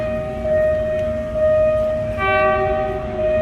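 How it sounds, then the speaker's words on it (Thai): A train arrives at Phaya Thai halt in Bangkok in the evening, rumbling steadily close by, with a long tonal horn and ringing harmonics sounding throughout, loud and continuous. "รถไฟก็กำลังมา"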